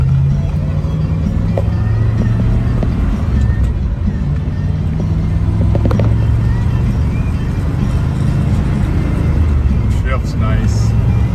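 A 1969 Chevrolet Chevelle SS engine running while driving, its hum rising and dropping as the four-speed manual gearbox shifts, with someone talking over it.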